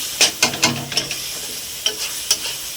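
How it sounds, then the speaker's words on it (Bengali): Ground spice masala of cumin, turmeric and coriander powder fries in oil for chicken biryani, with a spatula scraping the pan in a quick series of sharp strokes over a steady sizzle. "মশলাটা কষিয়ে নেব"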